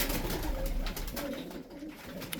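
Tippler pigeons coo inside a loft, soft low repeated calls close by over a constant rushing background noise, with no voices.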